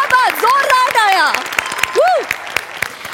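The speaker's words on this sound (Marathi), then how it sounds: "जोरदार टाळ्या" Audience clapping loudly after a comedy performance, with sharp individual claps beneath excited voices calling out and speaking over the applause.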